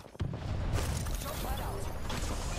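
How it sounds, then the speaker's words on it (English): A grenade goes off in the game Apex Legends with a sudden close boom, followed by a dense, sustained roar of noise and debris that fills the short clip. "Fire in the hole."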